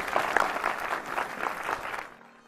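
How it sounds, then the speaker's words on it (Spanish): Audience applause at a Rebel Legion Star Wars costume group's community visit in Colombia, lively clapping with a few sharp nearby claps, fading out near the end. "Un aplauso para ustedes, gracias por venir."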